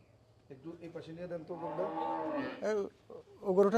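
A high-yield dairy cow kept with her month-old calf gives a drawn-out moo and shorter lowing calls nearby, with people talking quietly around her.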